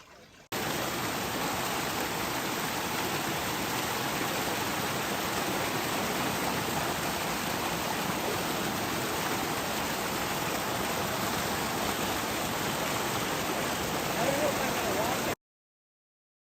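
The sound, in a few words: waterfall at Liard Hot Springs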